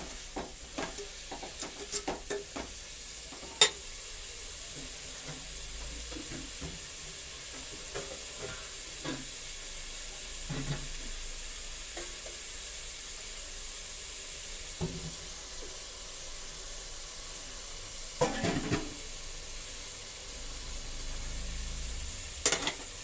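Food fries with a soft steady sizzle in a pan for masala idli with ennegai gojju, broken by occasional scrapes and taps of a stirring spoon, quiet and close with no talk.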